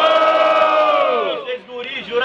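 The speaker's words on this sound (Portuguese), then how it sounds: "Quem gostou das rimas do Cairói faz muito barulho" Crowd cheering and whooping at a Brazilian student rap battle, a loud sustained roar of many voices with shouts rising and falling, dipping briefly before swelling again.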